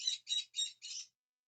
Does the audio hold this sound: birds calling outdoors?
yes